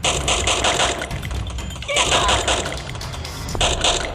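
Video game gunfire, rapid bursts of automatic shots in quick rhythmic volleys, loud and close, with short pauses between bursts and a lull in the middle.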